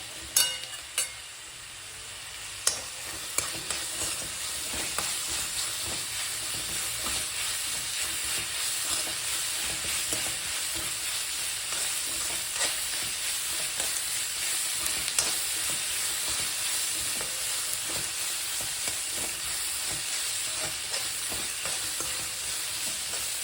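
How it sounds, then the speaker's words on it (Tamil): Onions fry and sizzle steadily in a pan for mutton sukka, with a spoon scraping and stirring through them now and then; the sizzle is continuous and close, with no talking. "வெங்காயம் நல்லா வதங்கிடுச்சு."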